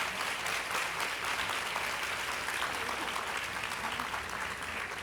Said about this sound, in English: let's start with a round of applause for our two candidates